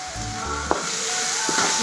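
Spices and chilli powder sautéing in a pan for semiya kichadi give a steady close sizzle, with a couple of brief spatula scrapes and a low hum underneath.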